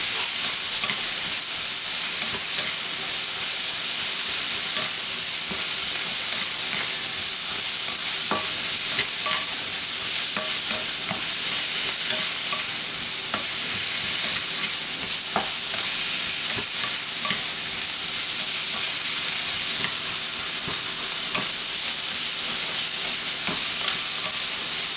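Taco hotdish filling, softened vegetables, sizzles and fries in a pan while a spoon stirs it, with a constant loud hiss and occasional scraping clicks close by.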